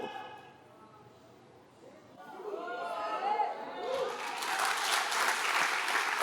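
Audience applause at a talk swells in after quiet, murmuring voices, rising from sparse clapping to a fuller, steady round with crowd chatter underneath.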